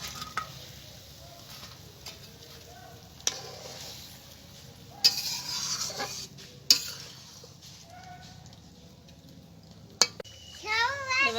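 Fried fish going into a pan with turmeric and getting stirred, a soft sizzle running throughout, sharp clanks of a spatula against the pan, and a voice heard now and then.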